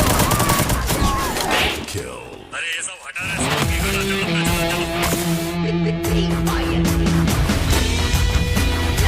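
Rapid bursts of automatic gunfire in the Free Fire video game crackle densely, with loud overlapping shots and game effects running under an excited voice talking over them.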